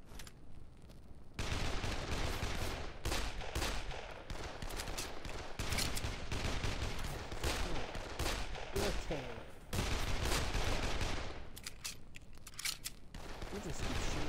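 Gunfire in Dead Island Definitive Edition: dense, loud bursts of rapid automatic shots with sustained stretches and short pauses, continuing at high intensity for the whole stretch amid other game noise.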